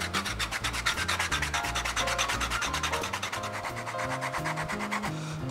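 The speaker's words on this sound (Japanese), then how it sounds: "これで横を削って平らにしていって" A tool shaves the rough edge of leather flat on a handmade leather knife case, producing rhythmic, repeated close scraping strokes with soft music playing underneath.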